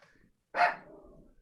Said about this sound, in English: He just barked at me